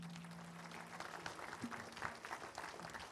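An audience claps steadily to welcome a film director at a screening of a French film about a state scandal, sustained applause of moderate density heard from within the hall, a little distant.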